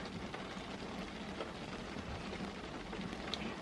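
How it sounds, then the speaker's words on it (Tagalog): Steady, moderate rainfall with a continuous hiss and soft patter of drops on a surface, no voices present. "Lumakas yung ulan."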